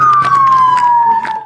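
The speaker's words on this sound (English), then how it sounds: "go shut those sirens off" A police car siren wails loud and near with a steady, slowly falling tone at a roadside emergency scene, faint voices and bursts of noise underneath.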